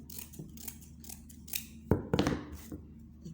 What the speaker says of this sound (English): You can trim if the edge of your sinamay is not straight.